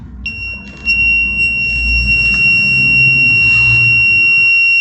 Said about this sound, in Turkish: Şu anda buzzer'ımın bağlantısını yapayım. Sökmüştüm çok ses geldiği için.